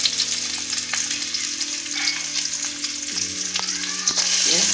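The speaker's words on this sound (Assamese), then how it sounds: "তেলতে মই কাটি থোৱা পিঁয়াজ অলপ দি দিছোঁ।" Chopped onions fry in hot oil for a mixed vegetable dish, a loud continuous sizzle up close with a few faint clinks and scrapes and a low steady hum underneath.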